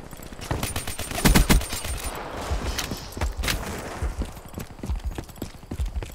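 A slower-firing submachine gun in a first-person shooter, rapid clattering strings of shots in short bursts, close and loud, with gaps between volleys.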